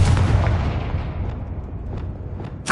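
Confringo fire spell cast in Hogwarts Legacy, a loud booming blast at the start that rumbles and fades, followed by a couple of faint magical crackles and a sharp burst near the end.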